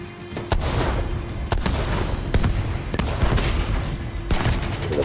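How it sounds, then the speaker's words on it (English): Rapid bursts of explosive firework pops and bangs in The Division 2 video game crackle continuously, loud and dense with no talking. "Fireworks have started."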